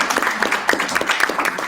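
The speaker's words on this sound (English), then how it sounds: "Let's give him a round of applause." A brief round of applause from a small audience at a sponsor introduction, a short burst of steady, close clapping.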